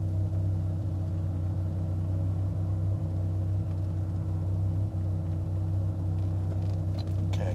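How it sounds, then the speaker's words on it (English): A steady low engine rumble, likely from the idling 2001 Dodge Viper RT/10, runs through the whole stretch as a couple of cars drive past at a moderate distance, with no talk. "Gonna wait for a couple cars to go through."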